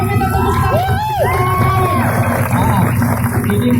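A crowd at a 115cc automatic-scooter motorbike race cheers loudly and continuously, with rising whoops and whistle-like calls standing out above the dense roar of voices.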